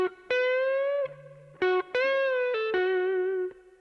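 Electric guitar playing a short blues lick, with bent, sustained notes through effects and light distortion; a few distinct phrases, close and clear, no talking.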